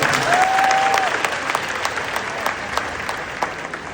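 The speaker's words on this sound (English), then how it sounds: "I want you to give her a round of applause" Steady applause from an audience at a Namibian mental health program launch for teachers fills the whole stretch, dense clapping that holds level and then eases slightly toward the end.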